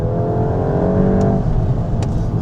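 A VW Golf GTI engine hums loudly and builds as it accelerates, a steady close-up roar with no talking.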